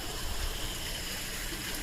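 Freshwater stream in a Tokyo park in early morning, a steady soft rush and trickle of running water, continuous and moderately faint with no voices.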